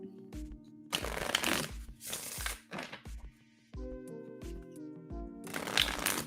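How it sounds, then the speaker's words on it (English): Tarot cards are riffled and shuffled in several crisp, close bursts separated by short pauses, with soft taps and slides between them. "I'm just kind of shuffling all my cards before I end the stream"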